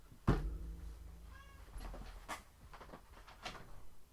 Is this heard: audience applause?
no